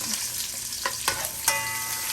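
Garlic sautés in avocado oil for Zamboanga-style ampalaya, a close, steady sizzle broken by a few sharp stirring scrapes and clicks of the utensil against the pan.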